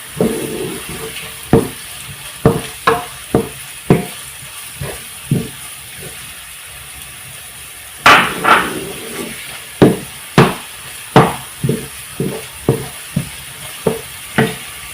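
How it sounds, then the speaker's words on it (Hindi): Ginger garlic paste sizzles in a pan of lightly browned onions with potatoes and capsicum, while a spoon scrapes and knocks against the pan in repeated sharp strokes over the steady frying hiss. "अब हम इसमें डालेंगे लहसुन अदरक का पेस्ट, इसे मिक्स करेंगे।"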